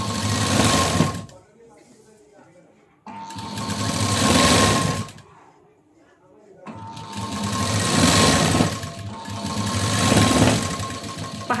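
A sewing machine stitches a cross strip onto a blouse in two long loud runs and a third sustained run, with short pauses between them filled by faint rustling of fabric.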